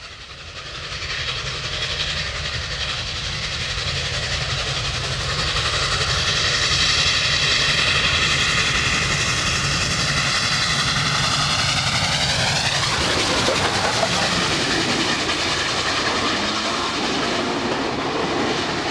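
Union Pacific 844 steam locomotive hauling a freight train, a loud steady rumble and roar that holds for the whole stretch, with a sweeping change in pitch as it passes close by.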